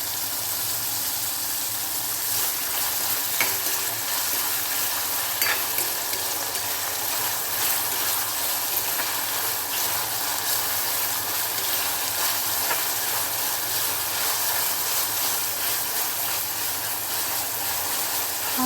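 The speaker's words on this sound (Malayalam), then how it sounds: "നന്നായിട്ട് വഴറ്റിയെടുക്കാം സബോള ഇഞ്ചി വെളുത്തുള്ളി പച്ചമുളക് കറിവേപ്പിൻ്റെ ഇല ഇട്ട് നന്നായി വഴറ്റി എടുത്തിട്ടുണ്ട്" Onion, ginger, garlic, green chili and curry leaves sauté in a pan for a Thrissur-style beef and tapioca curry, giving a continuous close sizzle with faint stirring and no talk.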